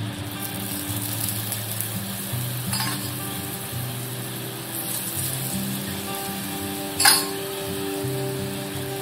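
Shepu (dill) paratha roasting in oil on a hot griddle, a steady soft sizzle with faint scraping and one brief clink, heard close with no talk.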